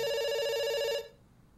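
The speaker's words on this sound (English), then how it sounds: "It's ringing." A telephone rings in the video game Dr. Langeskov, one loud sustained electronic bell tone lasting about a second before cutting off, leaving quiet room tone behind.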